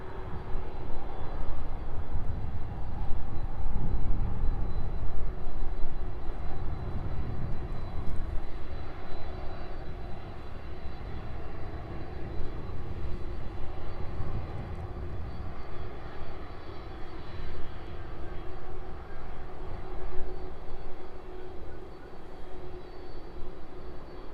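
A Boeing 747 cargo jet taxis along an airport taxiway, its engines producing a steady, fairly loud rumble that holds throughout with slight swells, heard without any talking.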